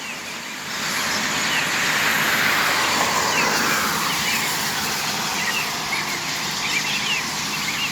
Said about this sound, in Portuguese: Mistura do barulho dos carros com o som dos pássaros.